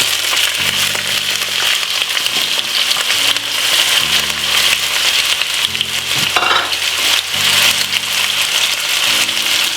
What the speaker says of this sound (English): I'm going to be frying up this for about 3 to 4 minutes